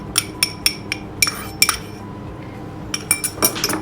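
Dry milk is mixed into cake batter for an oven-free marble cake, a utensil clinking sharply against the bowl in quick rhythmic taps, with a pause midway before the tapping resumes, close and without talk.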